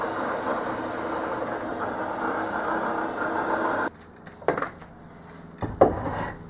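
A drill press bores holes into a small one-inch metal cube clamped in a drill press vise, a steady motor whine for several seconds, then stopping, followed by a few close knocks and clatters of handling.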